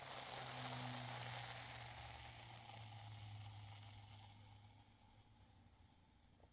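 A soft, steady fizzing of carbonated A&W root beer, bubbles hissing close by and gradually fading as the foam settles.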